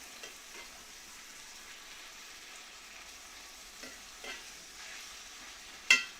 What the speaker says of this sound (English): Get this kind of meat just sort of browned off here.